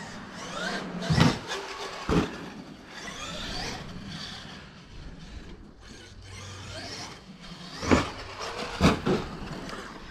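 A Traxxas X-Maxx RC car drives a circuit, its electric motor whining and surging in bursts alongside gritty rolling and rattling, loud and close with sharp peaks as it accelerates.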